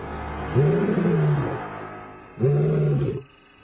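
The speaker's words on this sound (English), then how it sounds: "He had one of the oddest but incredible roars of any lion." A male lion of the Sabi Sand roars twice, each a deep, drawn-out moaning call with a rising-then-falling shape, close and loud with a short pause between them.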